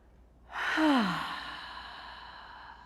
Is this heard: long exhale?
yes